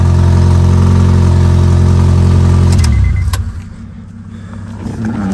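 An Acura TSX car idling loudly at first, then the engine drone drops away and quieter whirring and clicks follow as the power windows are lowered.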